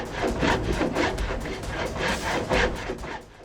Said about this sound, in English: As the cut progresses toward the end resting in the cart, the two halves spread apart more and more.